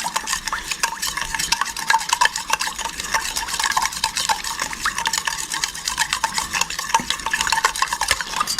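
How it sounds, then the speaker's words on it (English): A spoon stirs sugar into Vietnamese fish sauce (nuoc mam for banh xeo), clinking steadily and rapidly against the bowl in close, continuous scraping strokes with no talking. "I'm mixing mine with a spoon"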